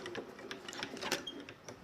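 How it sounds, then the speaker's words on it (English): A die-cutting machine rolls a sandwich of cutting and base plates through its rollers, a faint, steady run of small clicks and grinding ticks heard close up without talk. "As long as your cutting edge is going into your cutting plate, you can put it through the machine either way. Let's just roll it backwards."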